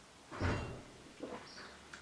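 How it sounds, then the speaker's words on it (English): Doors slam inside living accommodation: a heavy thud comes first, then a lighter knock and a couple of fainter clicks, fairly close and with no voices. "doors slamming in my accommodation"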